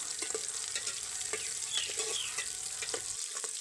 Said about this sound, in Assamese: তাৰপাছত মই ইয়াতে পিঁয়াজ দি দিলোঁ। পিঁয়াজখিনি অকণমান সময় ভাজি ল'ম।